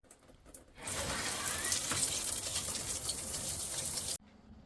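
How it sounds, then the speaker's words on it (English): Shower water runs in a steady hiss after a click, lasting several seconds before cutting off abruptly, on a long-distance hiking trip. "Shower time."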